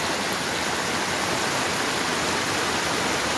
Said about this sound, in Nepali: यसरी बाटोमा पानी बगेर